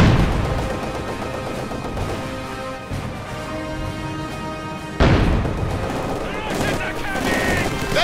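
Dense battlefield gunfire from the World War II strategy game Company of Heroes 2: continuous rattling rifle and machine-gun bursts with heavy crashes, and a sharp loud volley near the five-second mark.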